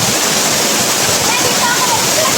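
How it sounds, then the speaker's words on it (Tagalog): Tagbibinta Falls, a 120 ft waterfall, pours with a loud, steady, close roar of rushing water that fills the whole stretch without any break. "nandito na kami ngayon sa Tagbibinta Falls"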